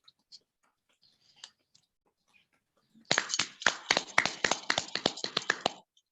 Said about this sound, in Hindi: किरण विश्वकर्मा जी के लिए तालियां जोरदार होनी चाहिए।